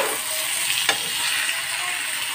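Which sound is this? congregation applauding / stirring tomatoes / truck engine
stirring tomatoes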